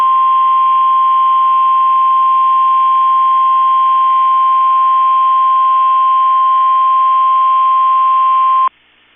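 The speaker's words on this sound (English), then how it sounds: "has just activated the warning alarm on 13 weather radio stations across central and southern Minnesota and west central Wisconsin" A NOAA weather radio warning alarm tone, the steady 1050 Hz-style attention signal, holds loud and unbroken for about nine seconds over a band of hiss, then cuts off abruptly.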